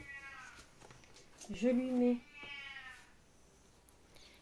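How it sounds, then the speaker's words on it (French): An old cat gives one short meow in the middle, set against quiet background noise. "Ce que vous entendez, c'est mon vieux chat"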